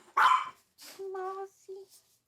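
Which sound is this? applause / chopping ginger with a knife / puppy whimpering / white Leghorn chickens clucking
puppy whimpering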